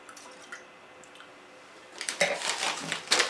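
Water splashing and sloshing as a wine glass is rinsed between Chardonnay tastings, faint drips at first, then a louder burst of splashing and glassy clinks up close.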